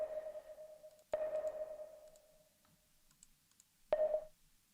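A sonar-like ping sounds three times, each a steady tone with a gritty, distorted edge and a hard click at its start, fading between pulses.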